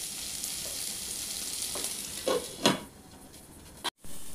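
Paneer tikka vegetables frying in a little butter, no oil, with a steady sizzle and a few scraping stirs of a spoon in the pan, close up and without talk, ending in a brief knock.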